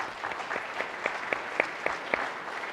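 Clapping from a dinner audience during a keynote dialogue, a fairly soft steady patter of applause with a few sharper, louder claps standing out near the middle and end.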